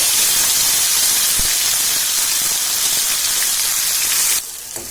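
Ground spice paste hits hot oil tempered with garlic, mustard seeds and cumin, giving a loud, steady hissing sizzle that fills the kitchen before cutting off abruptly near the end.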